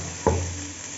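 Chopped onions drop into hot oil in a pan for bhindi masala, setting off a sudden loud sizzle that settles into a steady frying hiss, with no talking.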